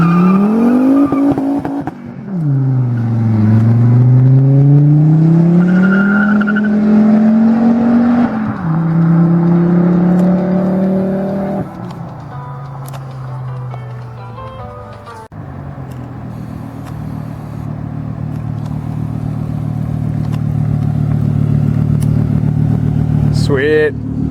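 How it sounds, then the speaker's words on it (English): A Volvo T5 engine in a drift truck revs hard and loud from the side pipe, its pitch swooping up and down, before settling into a sustained roar as the tires spin. "I'm gonna get it from the side pipe side so we can hear that glorious T5 sound"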